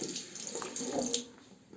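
Tap water runs over a razor being rinsed at a sink, a soft, fairly quiet splashing stream with small fluctuations throughout.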